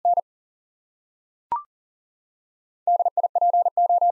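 Single-tone Morse code practice tone spelling the word NOISE: a clean, steady beep in a brief opening burst, a sharp click, then a quick run of evenly keyed dits and dahs.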